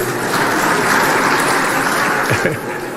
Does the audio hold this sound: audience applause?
yes